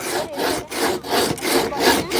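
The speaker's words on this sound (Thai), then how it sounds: "เลื่อยใบเลื่อยใหม่แต่ว่ามาใส่ด้ามอันนี้นะ" A hand bow saw fitted with a new blade cuts through wood during house building, making loud, steady back-and-forth rasping strokes, about six in quick rhythm, close up and alone.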